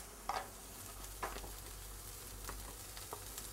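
Cabbage, broccoli stems and carrots sautéing in a pan, a faint soft sizzle with a few light stirring scrapes.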